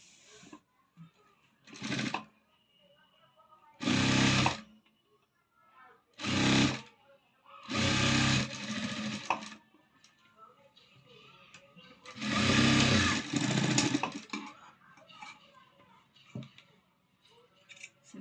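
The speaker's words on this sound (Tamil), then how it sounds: "உள்ளே மடித்து ஒரு தையல் போட்டுக்கலாங்க" A sewing machine stitches a folded-in seam on a cross-cut blouse, running in about six short, loud whirring bursts separated by pauses, close up and with no talk over it.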